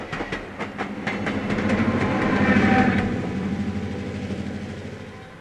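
Old commuter rail cars, rolling stock from the Peninsula 400 trains, back out of Madison Street Station in Chicago, with steady rumbling wheels and a rhythmic clickety-clack over rail joints that swells and then fades.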